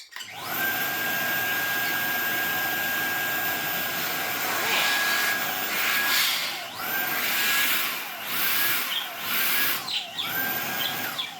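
A Dyson DC49 digital cylinder vacuum cleaner runs close by with a high steady whine, its pitch dipping and recovering several times as the motor strains and the airflow changes.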